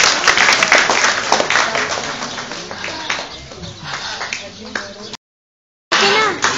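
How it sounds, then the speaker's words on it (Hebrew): Audience applause fills an outdoor parrot show at Hamat Gader, a dense, loud clapping crowd with bird calls mixed in, breaking off briefly before resuming. "בואו ניתן לה מחיאות כפיים והיא תצא לדרך"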